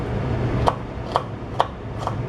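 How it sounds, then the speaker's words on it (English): A knife chops onions or shallots finely on a board, four distinct, evenly spaced taps over a low background hum. "So chop the onions or shallots or whatever finely."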